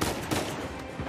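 A shotgun fires in Uncharted 4 with a loud, dense burst of blast noise filling the short moment.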